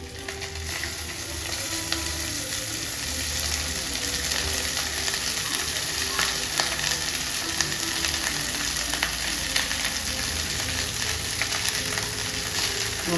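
Cooked rice for lemon rice (chitranna) tumbling into a hot frying pan, with a steady, close sizzle and frying crackle that holds evenly throughout, no voices.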